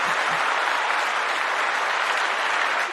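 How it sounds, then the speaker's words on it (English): Audience applause from an evening event crowd welcoming a guest speaker, a steady dense wash of clapping held at full strength for about three seconds before trailing off, with no talking over it. "The claps."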